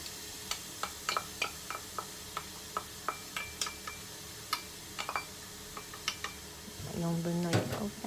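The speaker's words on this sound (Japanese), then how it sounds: "しんなりするまで炒めていきます" Finely chopped onion and a small clove's worth of minced garlic cook in a frying pan, with a soft sizzle under repeated sharp clicks and scrapes of a utensil stirring, and a louder burst of frying near the end.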